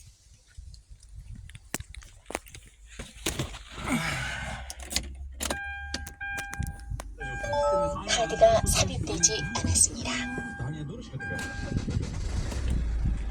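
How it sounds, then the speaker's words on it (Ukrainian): A 2010 Hyundai Santa Fe engine cranks and starts, then idles steadily as a clear close-up rumble, with jangling keys, interior chimes and people talking over it. "Візьму, зараз заведу машинку."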